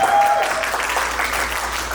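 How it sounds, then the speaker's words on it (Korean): A Korean Presbyterian church congregation at a Sunday service applauds warmly, a full, continuous wash of clapping in the room with a faint hum beneath. "박수!"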